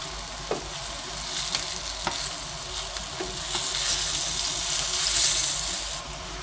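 Onion rings deep-frying in hot oil for crispy fried onion garnish, a steady close sizzle and crackle with occasional sharp pops and a faint watery hiss rising slightly toward the end.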